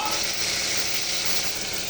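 Tomatoes fry in a pan with a short, even, close sizzle, a continuous hiss that holds steady for about two seconds with no voices.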